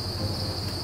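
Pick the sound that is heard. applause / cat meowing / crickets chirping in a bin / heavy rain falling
crickets chirping in a bin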